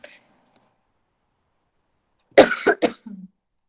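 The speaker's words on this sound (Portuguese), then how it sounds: "Desculpa, gente, que eu vou tossir" One person coughs close to the microphone during an online presentation, a quick pair of harsh coughs followed by a short throat sound, with silence before them.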